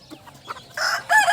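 Aseel rooster crows loudly and close on an open-range free-range chicken farm, a single drawn-out crow in the last half after some faint scattered clucking.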